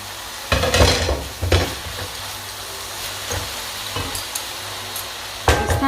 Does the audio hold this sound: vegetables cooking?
yes